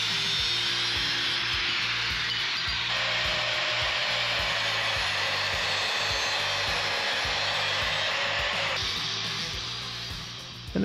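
An angle grinder with a flap disc works a steel tube notch for motorcycle crash bars on a Honda Trail 125 build, giving a loud, steady, continuous whine across the whole span with a brief dip near the end.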